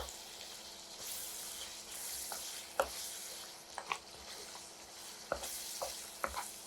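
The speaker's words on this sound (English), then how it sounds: "We're going to fry the meat for a good 5 minutes until it has a glorious color" Lamb frying in ghee with black pepper for a white karahi curry, a steady low sizzle with intermittent scrapes and clinks of a stirring spoon against the pan, fairly quiet, no talking.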